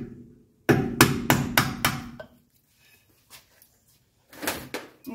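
Five sharp metallic taps in quick succession knock the wheel bearing dust cap off the front hub of a 1985 Mercedes 300CD in a garage. A few faint clinks follow, then two more taps.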